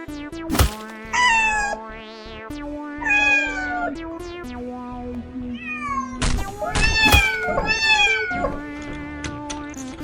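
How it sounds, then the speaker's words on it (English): A cat meows repeatedly, several drawn-out wavering cries close by, with a few thumps and a sharp clatter between them. "Suddenly, Rocky, a strong white cat, rushes in to protect her"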